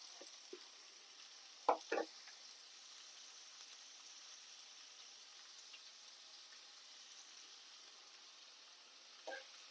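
Onions fry in oil in a pan, a soft, steady high sizzle running throughout, with a few brief clinks of utensils near the start and end.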